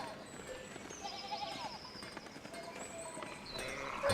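Sheep bleating in the video game Pentiment, several wavering calls from a flock mixed with light hoof clatter and background game sounds, moderately close.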